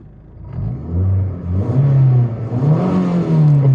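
A car engine running extremely lean on E10 petrol mixed with vodka, its idle rumble surging and hunting unevenly as the revs rise and dip, loud and close.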